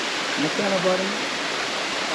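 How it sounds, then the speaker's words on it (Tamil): Manneera waterfall at Konni, Pathanamthitta, Kerala: a steady, dense rush of falling water fills the whole clip at an even level, while someone speaks briefly over it. "இதுதான் மண்ணீரா வாட்டர் ஃபால்ஸ்"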